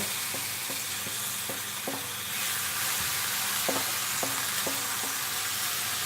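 Aubergines and lamb curry sizzle steadily in a wok for a Malaysian lamb curry, with a broad frying hiss throughout and a run of rhythmic scraping stirs and knocks against the pan.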